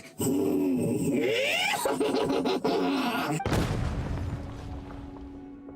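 A loud explosion booms in Genshin Impact, with a sharp blast followed by a rumbling, decaying tail over game sounds and clatter.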